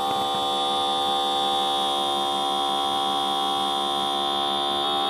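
An ink-printer head and cartridge servicing vacuum machine runs with a steady, loud electric hum and a high whining tone, continuous and unchanging throughout with no voices.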